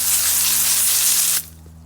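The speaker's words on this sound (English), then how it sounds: "Spray the concrete." Garden hose spraying water onto concrete: a loud, close, steady hiss of water hitting hard pavement that stops abruptly, leaving a quiet low hum.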